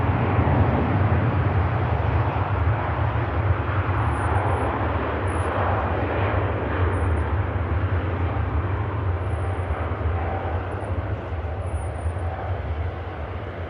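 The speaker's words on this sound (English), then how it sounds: "Beautiful Cathay Pacific A380 in the background on the departure roll now." Cathay Pacific Airbus A380 airliner on its departure roll at Manchester Airport, a steady broad jet roar heard from a distance, sustained and even throughout with no voices.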